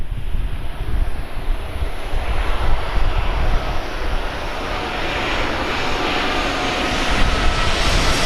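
A Qantas Airbus A380 airliner lands on runway 16 right at Tauranga, a loud, steady jet roar with broadband rumble that holds without a break for about eight seconds, close and dominant, with no voices.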